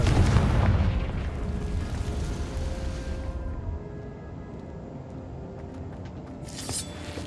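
Confringo fire spell from Hogwarts Legacy, a heavy booming explosion at the start that rumbles and decays over several seconds, followed by quieter game ambience and a brief sharp burst near the end.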